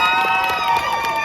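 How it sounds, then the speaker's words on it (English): Audience at a cosplay panel applauding and cheering, a dense, loud wash of clapping and whoops filling the room briefly. "Give a round of applause."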